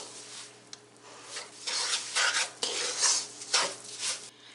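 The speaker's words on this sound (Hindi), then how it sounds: "इनको लो हीट पे भूनना है।" Semolina being stirred and roasted in butter and oil over low heat for suji halwa, a steady scraping and rubbing of a spoon against the pan in repeated strokes, close and moderately loud, with no talking.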